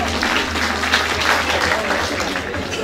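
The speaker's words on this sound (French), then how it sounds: "sous vos applaudissements" An audience at a live New Year's Eve comedy show claps steadily in sustained, dense applause, loud and continuous throughout.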